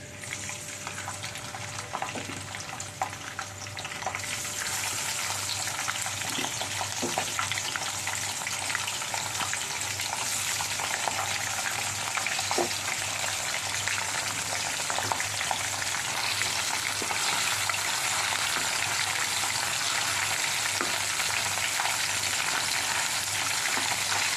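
Puti fish hit hot oil and burst into a loud, steady sizzle of frying that holds evenly to the end, with a few faint clinks early on and no talk.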